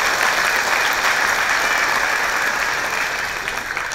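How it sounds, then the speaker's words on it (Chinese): An audience at a company success seminar claps for the firm, a dense, loud, steady wave of applause that carries on for several seconds with no talk over it. "给公司一个掌声"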